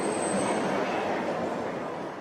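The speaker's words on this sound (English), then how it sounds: "I will make sure this train does not depart until you have boarded this train." A London Underground train sits at a station platform during a heatwave, giving a steady, loud, broadband rumble and hiss with no break.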